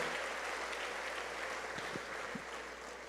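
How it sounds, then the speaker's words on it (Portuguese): A church congregation applauding, with dense sustained clapping that fades slightly toward the end, moderately distant in a large hall. "Vamos aplaudir o Senhor."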